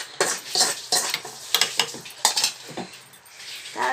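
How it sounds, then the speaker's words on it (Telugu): Tempering spices go into a pan for cucumber dal, with sharp metallic scrapes and clinks of a spoon against the pan over a faint sizzle, coming in irregular bursts close by. "ఇప్పుడు నాకు తాలింపు వేసేసుకోవడమే"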